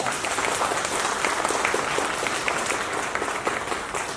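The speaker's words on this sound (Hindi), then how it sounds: "जोरदार तालियां।" Loud, steady applause from a large audience, a continuous wash of clapping without a break.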